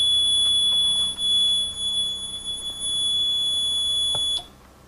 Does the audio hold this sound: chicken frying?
no